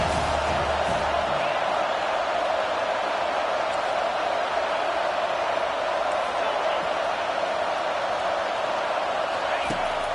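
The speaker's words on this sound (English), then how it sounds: "Listen to this crowd just shaking the girders of this place" A college football stadium crowd at Ohio State versus South Carolina roars on third down, a steady dense wall of cheering and noise that stays loud and unbroken throughout, with no clear individual voices.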